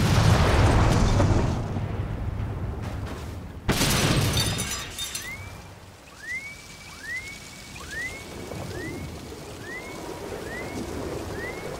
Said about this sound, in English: then it will immediately explode